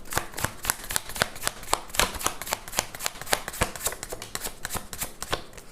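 Tarot cards are shuffled by hand in a fast, continuous run of crisp riffling snaps, close and fairly quiet, with no voices.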